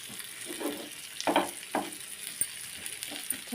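Fish frying in a small amount of oil in a pan, a continuous close sizzle with occasional clinks and scrapes of a utensil turning the pieces.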